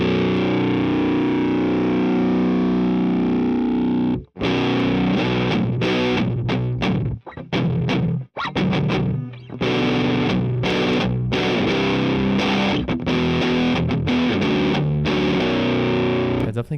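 Electric guitar played through the Neural DSP Archetype amp plugin with heavy distortion, starting with a sustained chord, then choppy riffs broken by sharp stops and silences.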